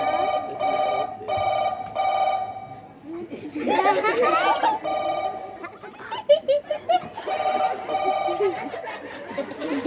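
An old-style telephone bell rings in repeated bursts during a Konkani comedy stage play, with excited talk and laughter from performers and audience breaking in between the rings.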